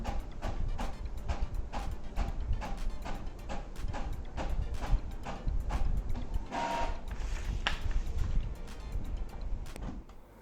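A USB printer prints a page sent wirelessly from an iPhone, giving a close, steady run of rhythmic mechanical clacks and whirs from the print head and paper feed, with no talking.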